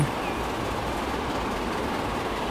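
A train running in Transport Fever 2 in a UK-based game setting gives a steady, continuous rolling rumble with faint rail clatter, holding at an even level throughout with no talk over it.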